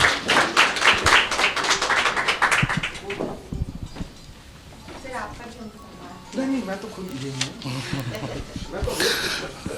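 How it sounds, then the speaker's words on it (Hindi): An audience at a Hindi-language conference on the languages of Northeast India claps loudly to welcome the moderator. The dense burst of many hands lasts a few seconds, then fades as a voice begins speaking. "ज़ोरदार तालियों से आप इनका स्वागत करेंगे।"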